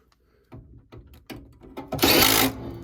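A power driver drives a screw into a York furnace inducer motor assembly, giving several short bursts of whirring before a longer, louder run near the end, close by.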